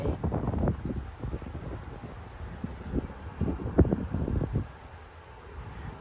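Strong 40 mph wind gusts rush through neighborhood trees in Frisco, Texas during a severe weather outbreak, a steady roaring blow with rustling bursts and buffeting on the microphone.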